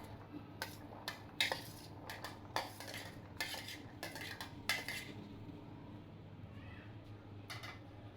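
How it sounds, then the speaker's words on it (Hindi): Boiled potatoes and chickpeas are mixed in a bowl, with a spoon clinking and scraping against it in sharp, irregular knocks. The sounds are close but soft over a low background hum. "आलू और चने हमने दोनों चीज़ों को मिक्स कर लिया है।"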